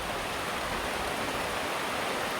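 Steady rain falling outdoors during a thunderstorm in a market area, a dense, even hiss that is continuous and close with no pauses and no voices.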